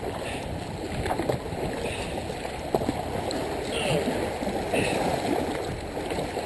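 A kayak is paddled upriver against a river current, with a constant rushing of moving water, splashy strokes and wind noise close to the boat, and a voice speaking at times.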